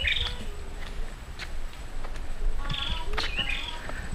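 Native birds call in the Karimun Jawa mangrove forest, several short chirps and whistled notes at moderate distance over a steady ambient hiss.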